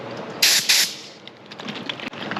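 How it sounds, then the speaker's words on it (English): A spray gun on an air hose applies Raptor bed liner coating to a Jeep in two short, loud bursts of hiss, each followed by a quieter, fading airy spray. "it says to keep it about 40 to 60 PSI when you're spraying"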